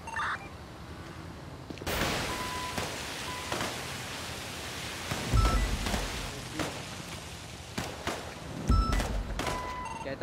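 Bursts of video game gunfire from GTA V crackle over a constant noisy background, with a few heavier booming shots standing out; no voices.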